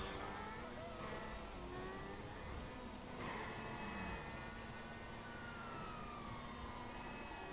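Police sirens wail and glide through a dense wash of car engine and street noise during a GTA V chase, staying loud and continuous throughout.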